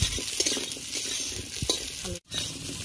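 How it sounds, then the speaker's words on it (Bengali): Potatoes frying in a home kitchen pan for a thin singhi fish curry, with a loud, continuous sizzle and scraping stirs of a utensil, cut by a brief near-silent gap toward the end. "আলুটাও ভাজা হয়ে গেছে, তুলে নেব"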